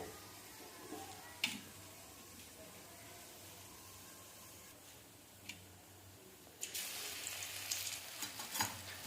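Garlic fries in oil in a pan while it is stirred, giving a quiet, continuous sizzle with a few scraping ticks that swell into a brighter crackle near the end.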